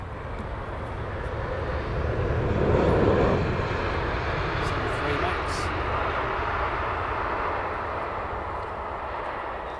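Icelandair airliner arriving at Heathrow Airport, a moderate distant jet engine rumble swelling slightly then holding steady, with faint voices in the background.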